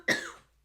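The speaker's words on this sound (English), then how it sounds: "now I'm going to start coughing." One short, sharp human cough, close and fairly loud, fading quickly into silence.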